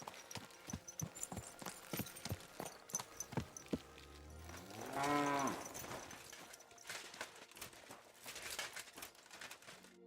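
Horse hooves clip-clopping in the medieval role-playing game Kingdom Come: Deliverance II, a steady run of sharp hoof knocks with a louder swell in the middle amid ambient game sound.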